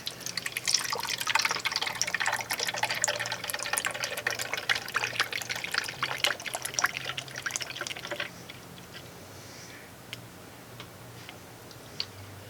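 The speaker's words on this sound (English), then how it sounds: "this is the bottle, and I'm just literally going to pour it in here" Ink is poured from a bottle into the tank of a Procolored K13 Lite printer, a close, steady trickling and ticking liquid stream lasting about eight seconds before stopping, followed by a few faint drips and clicks in a quiet room.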